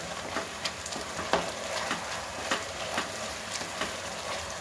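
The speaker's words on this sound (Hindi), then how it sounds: "अब इसको हम तेज़ आंच पे ही पकाएंगे।" Chicken fried rice cooks on a high flame, with a steady sizzle and frying crackle broken by regular light scrapes and taps of stirring.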